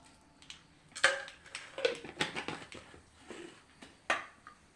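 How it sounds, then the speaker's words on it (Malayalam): Mustard seeds spluttering in hot coconut oil in a pan, irregular sharp pops and crackles, some clustered and some isolated, fairly quiet and close with no talking. "ഇനി നമുക്ക് വെളിച്ചെണ്ണ ഒഴിച്ചു കൊടുക്കാം ആവശ്യത്തിന്. കടുകിട്ട് കൊടുക്കാം."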